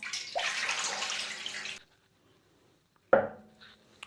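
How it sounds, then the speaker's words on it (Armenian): One liter of water pours in a steady, splashing stream onto mixed spices in a kitchen, running for under two seconds, then a short silence and a brief second splash. "Հիմա լցնում ենք ընդամենը 1 լիտր ջուր։"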